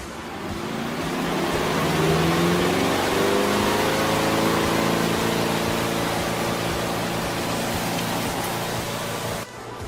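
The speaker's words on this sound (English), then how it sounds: "While the spin cycle is going" A Giantex mini portable washer runs its spin cycle with a loud, steady whirring hum that climbs and settles in pitch, close by and continuous without speech.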